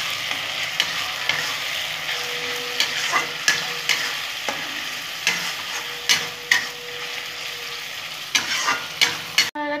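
Masala for a Bengali chicken curry with winter vegetables being sautéed with Kashmiri chili powder and hot chili powder, a soft sizzle under repeated sharp spoon scrapes and taps against the pan at an uneven rhythm, with no voices.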